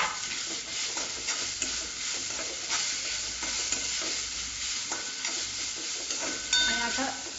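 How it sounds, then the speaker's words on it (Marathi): Tomato roasts in a pan with a sesame and cumin masala, sizzling steadily at moderate volume while a spoon scrapes and stirs in uneven strokes, with one louder clatter near the end; no voices. "टॅमॅटो घातलाय, टॅमॅटो थोडा भाजून घ्यायचा"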